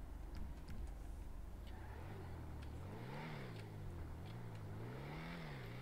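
The Vectre in GTA 5 Online revs and accelerates, its engine note climbing and falling in repeated waves as the car drives, loud and alone with no talking.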